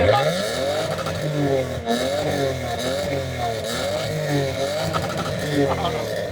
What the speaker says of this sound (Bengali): এটা আপনি দুই কিলো দূর থেকে সাউন্ড পাবেন যে আমার গাড়ি আসতেছে